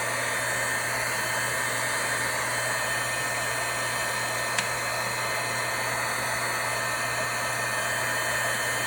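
Handheld dryer blowing steadily and close up while drying Tim Holtz collage paper on a craft tag, a continuous even whir with one brief click partway through.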